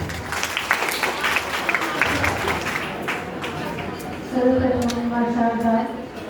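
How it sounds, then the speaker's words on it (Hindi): A crowd applauds at a farewell celebration at an institution, steady dense clapping that continues while a voice talks over it toward the end. "एक जोरदार तालियां"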